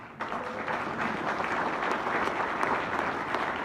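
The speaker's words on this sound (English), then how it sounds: "Please give him a round of applause" Symposium attendees applaud a congressman being recognized, a steady roar of clapping that swells in after a brief quieter moment and holds at an even level, dense and crowd-wide.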